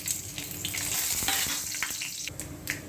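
Steady crackling sizzle of mustard seeds, urad dal and chana dal frying in hot oil, with scattered pops throughout, fairly close and continuous.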